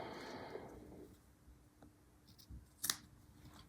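Scissors make a few faint, sharp snips through quilting fabric scraps, with a louder crisp cut near the end against a quiet room.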